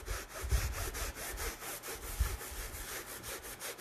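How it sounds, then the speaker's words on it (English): An old rag buffs back a drying textured paint finish, giving rhythmic rough rubbing strokes, several each second in a steady back-and-forth scratch, close and fairly quiet with no talk. "And then I'm just buffing it back away. Just using an old rag."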